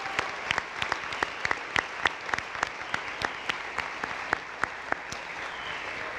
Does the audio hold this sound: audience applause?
yes